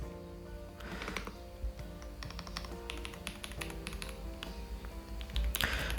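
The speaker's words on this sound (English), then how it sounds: "Here you can see the keyboard with one keyboard cover, plastic, this one plastic. So let's see the sound." Typing on an AJAZZ AK870 Plus mechanical keyboard with a plastic cover gives quick, close clacks in uneven bursts, moderately quiet, ending with a louder flurry of keystrokes.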